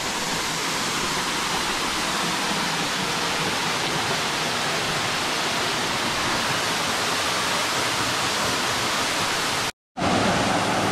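A waterfall in Puerto Rico roars in a constant, loud wash of rushing water with no other sounds, broken only by a brief dropout near the end.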